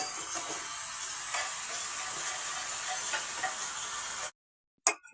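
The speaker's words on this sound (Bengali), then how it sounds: "এবার আমি লবণ এবং ধনিয়া গুঁড়ো দিয়ে নেড়ে নিচ্ছি।" Shrimp curry stirred in a hot pan after salt and coriander powder go in, a steady sizzling hiss with faint scraping for about four seconds, then silence and a brief clatter.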